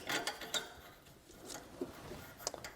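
A ratchet with a 10mm socket loosening the EGR valve tube bolts on a Ford 4.6L engine, faint scattered clicking and metallic ticks at close range with no talk over them.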